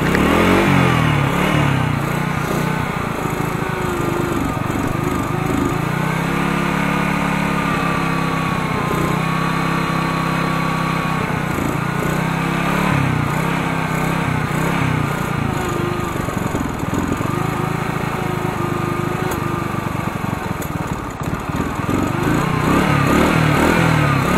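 A Renault Captur car engine runs continuously close by in about minus 5 degrees cold, idling with a rough, uneven drone and occasional shifts in pitch as it revs slightly.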